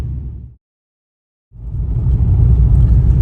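A BMW E46 rolls along the road with a loud low rumble that cuts out abruptly to near silence for about a second, then swells back into steady driving noise.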